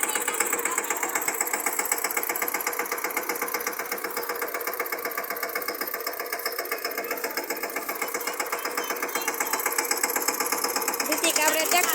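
A tractor engine runs steadily while working a groundnut field, a rapid, even mechanical chugging that stays close and continuous throughout.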